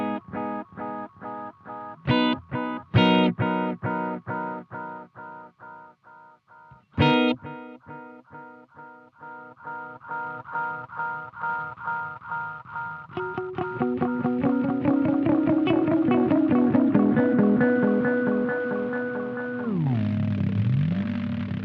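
Electric guitar notes pass through an Echo Dream 2 fuzz delay pedal with repeating echoes, rhythmic picked tones building into sustained, swelling fuzz that trails off.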